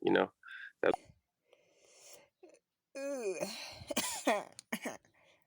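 Several short coughs and throat-clearing sounds, close by, mixed with bits of a voice speaking between them.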